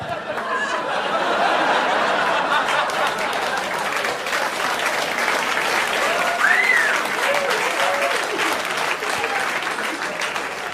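Applause from a comedy club crowd fills the room continuously, dense and steady clapping with scattered chuckles and murmurs mixed in throughout.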